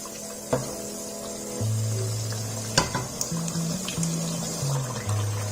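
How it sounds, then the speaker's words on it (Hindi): Chicken Afghani karahi sizzles and fries steadily in a pan as the liquid cooks down, with scraping stirs and occasional clanks of a spoon against the metal, loud and close throughout. "जैसे सारा पानी खुश्क हो जाएगा फिर हम इसको अच्छे से भून लेंगे"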